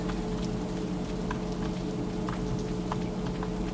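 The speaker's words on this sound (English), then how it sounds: "It is raining." Steady rain in the farming video game Stardew Valley, a continuous soft patter with scattered droplet ticks over a low constant hum, even and unbroken, with no speech.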